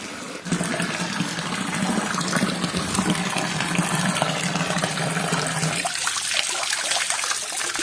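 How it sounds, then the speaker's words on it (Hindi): Water of the Saraswati river pours steadily from a cow-mouth Gomukh statue at a temple in Mount Abu, a continuous near splashing gush with no talk. "यहाँ पर गोमुख मूर्ति से सरस्वती नदी का पानी हमेशा निकलता रहता है।"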